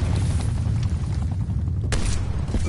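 Gunfire and explosions rumble through a Warzone battle, a dense, continuous low booming with scattered shot cracks and a sharp burst near the end.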